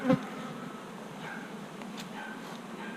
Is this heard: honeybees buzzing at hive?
yes